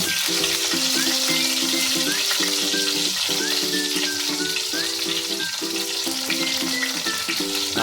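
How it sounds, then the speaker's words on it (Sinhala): Pandan leaves fry in hot oil, giving a loud, dense continuous sizzle heard close up, while a musical tune plays over it throughout and no one speaks. "තෙල් ටික රත් වීගෙන එනකොට අපි මේකට රම්පෙ ටික දානවා."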